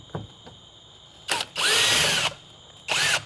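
A power drill removes screws from a Scion xB interior door panel in a few close, loud whirring bursts of varying length, with brief quiet gaps and faint clicks between them.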